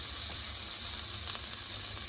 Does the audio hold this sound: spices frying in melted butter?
yes